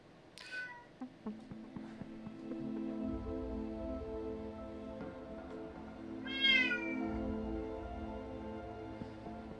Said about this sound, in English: We'll let the cat come in today. He can try and be naughty.